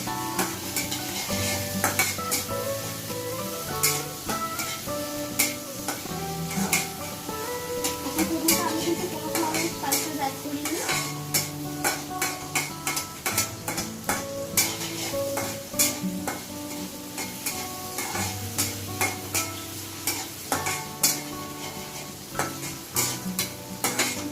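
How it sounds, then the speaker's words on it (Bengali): Chicken, onion and tomato sizzle in a pan while a utensil stirs and scrapes it, with rapid clinking strokes and a steady frying hiss throughout, loud and close. "এরপর আমরা পেঁয়াজের সাথে চিকেন এবং টমেটোকে মিক্স করে নেব।"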